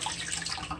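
Water from soaked, thawed shrimp pours and drains in a steady, splashy rush, close and fairly quiet, with no talking.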